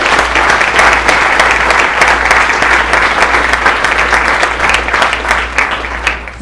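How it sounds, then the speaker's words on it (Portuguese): A church congregation applauds together during a worship service, with dense, loud, sustained clapping that carries on evenly and tapers slightly at the end, under a low steady hum. "Vamos aplaudir a presença dele aqui"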